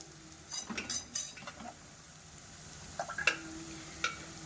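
Garlic and chili sautéing in a pan over a low flame for a leftover-roti dish, with a faint sizzle beneath a few clinks and scrapes of a metal spoon stirring, close and quiet.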